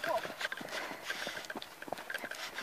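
Horse hooves clip-clopping at a quick, uneven pace, fairly close and moderately loud, with a rider's short spoken words over the hoofbeats.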